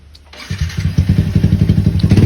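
A motorcycle engine cranks and catches close by, then settles into a loud, steady, throbbing idle with rapid regular pulses, no voices over it.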